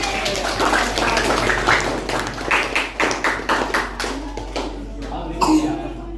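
Students in a classroom clap for group four during a lesson, a run of quick, fairly loud hand claps mixed with voices and classroom chatter.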